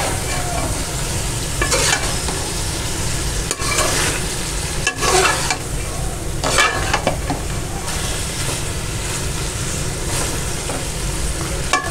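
Chicken with capsicum and chilli garlic sauce stirred in a hot pan, a loud steady sizzle with bursts of spatula scraping and tossing, close up and continuous, no talking.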